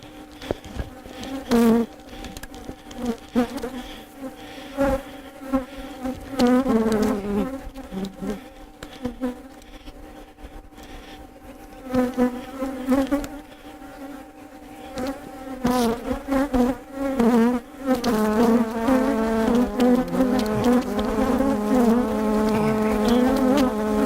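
Honey bees buzz densely during removal with a bee vacuum from a colony with brood and a queen, a close, swelling drone that runs throughout with no talk.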